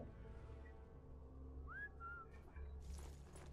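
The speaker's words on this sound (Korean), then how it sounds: "휘파람이어가지고" A single short rising whistle from a Sniper Elite 4 soldier, used to lure enemies, sounds once over steady low in-game ambience.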